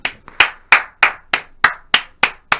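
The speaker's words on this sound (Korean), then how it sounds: "여러분 박수 한번 주세요" Steady, rhythmic hand claps ring out one after another, about three per second, loud and close with no talking.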